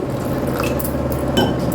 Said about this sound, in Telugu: కొంచెం వాటర్ పోసి పెట్టుకోండి